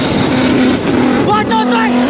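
Three Ford Mustangs and a BMW X5 accelerating up a highway on-ramp, loud engine drone with rising pitch sweeps as gears climb, heard from inside a vehicle with talking over it.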